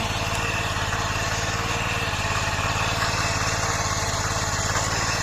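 A tractor engine runs steadily at close range in farm fields, a low rhythmic chug with a constant mechanical hum and no pauses.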